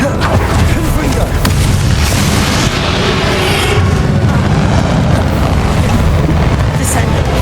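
Confringo blasting spell explosions in the Hogwarts Legacy video game, a dense, continuous roar of booming blasts and rumbling debris that stays loud and steady throughout, with battle voices mixed in.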